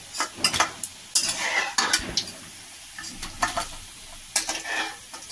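Pumpkin flower fritters fry in oil, giving a soft sizzle under a series of sharp, close clinks and scrapes as a utensil turns and lifts them from the pan, with no talking.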